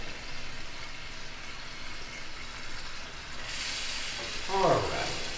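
Tomato goes into a pan after white wine has cooked off, for a cod puttanesca sauce, and a broad hiss of sizzling and bubbling builds and swells near the end, with no talk.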